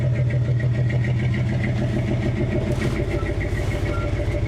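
A 1961 Chevy Apache truck engine runs at a steady, loud idle, a low rumbling drone with a continuous even pulse and no talking.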